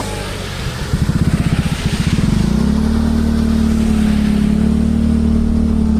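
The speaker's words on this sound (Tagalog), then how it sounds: "May motor dito sa kabila." A motorcycle engine revs in pulsing bursts, then settles into a loud, steady drone close by.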